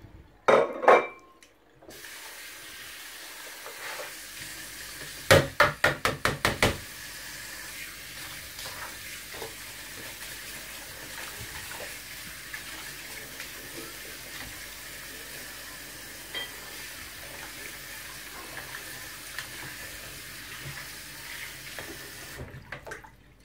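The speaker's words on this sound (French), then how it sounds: "On rince maintenant." Okok (okazi) leaves for a Cameroonian dish being rinsed in water: a steady, close watery wash runs throughout, with a brief burst of splashing and knocking early on.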